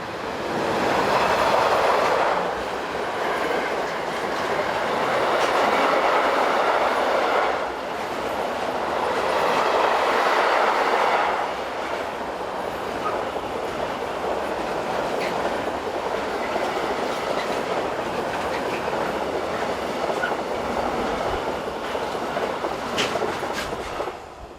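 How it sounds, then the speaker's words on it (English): Train 41645 from Cologne to Milan rolling past near the small town of Mühlau, a long steady rumble with swelling passes of wagons and rhythmic wheel clatter, fairly close and unbroken for the whole stretch. "(486-504) is in charge of train 41645 from Cologne to Milan."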